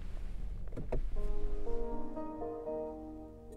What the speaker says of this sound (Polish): Gdy wyłączymy silnik, aby opuścić samochód, żegna nas taka oto muzyczka.